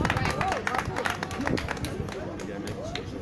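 Spectators clap and cheer as runners cross the finish line of a 10 km road race in Bordeaux. Scattered applause and crowd murmur sit under an announcer's voice over a loudspeaker.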